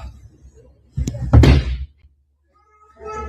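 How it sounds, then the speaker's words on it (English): A door held shut is shoved and banged in a short, heavy burst of thuds and rattles, with faint voices before and after. "She's holding the door so he can't get in."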